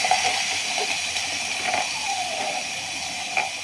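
Chopped bitter gourd, onion and potato drop into hot oil and hiss in a steady, close sizzle that runs throughout, with faint clinks from the pan.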